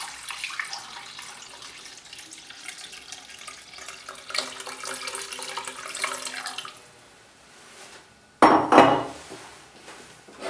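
Water poured from a bag into a meat and parsley tagine, a faint stream under cooking and kitchen noise, then a louder splashing burst near the end.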